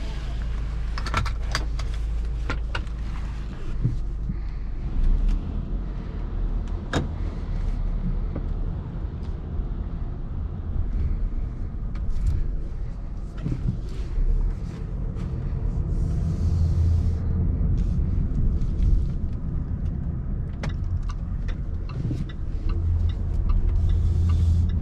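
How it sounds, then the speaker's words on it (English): Steady low road rumble of a 2019 Range Rover Evoque on a test drive, continuous engine and tyre drone with faint interior clicks and rustles throughout, no talk. "Now let's go ahead and buckle up, take it out for a spin,"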